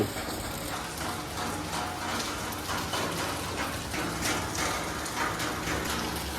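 Steady rain hisses and patters without a break, a dense wash of droplets with faint irregular ticks mixed in, and no voices.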